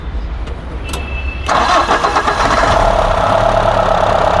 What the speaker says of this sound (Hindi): अब करवाते हैं स्टार्ट गाड़ी को।